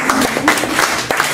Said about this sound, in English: It deserves an applause.